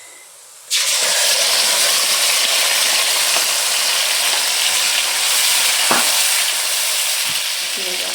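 Masala paste for kofta curry hits a hot pan and bursts into loud, continuous sizzling and frying, with occasional scraping clicks of stirring over the steady hiss, and no talk.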